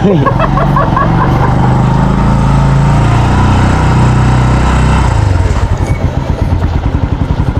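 A motorcycle engine idles and revs steadily at close range, loud and continuous, then shifts to a rougher, pulsing putter toward the end with no talk over it.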